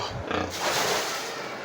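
Native pigs in their pen give a short, close grunting snort lasting under two seconds, heard on its own.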